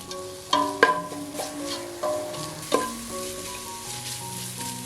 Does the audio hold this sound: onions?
yes